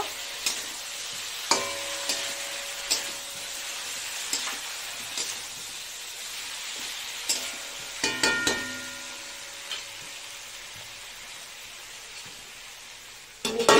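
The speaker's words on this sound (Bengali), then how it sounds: "চিনি দিয়ে আর একটু কষাবো" Shukto vegetables sautéed with sugar in a pan, frying with a continuous sizzle broken by frequent sharp clicks and scrapes of a spatula against the pan.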